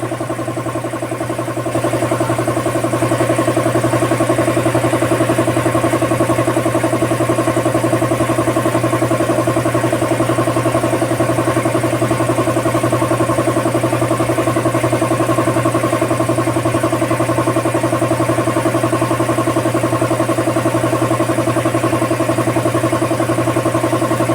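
An air compressor running during a maintenance check: a continuous loud, steady mechanical drone with a tonal hum that starts up in the first seconds and then holds unchanged, close by, with no voices.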